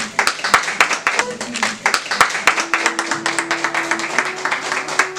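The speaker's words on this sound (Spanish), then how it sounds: "los demás le damos un fuerte aplauso" Wedding guests clap for the newlyweds Paulina and Elvis Torres after the kiss, a modest group of fairly close hands in uneven, sparse claps, with a steady tone humming underneath.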